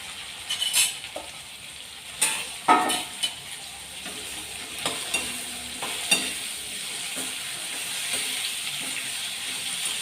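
Okra pieces fry in a pan with asafoetida and tomato, a continuous sizzle broken by scraping stirs and a few clattering knocks of the spoon early on, close and moderately loud.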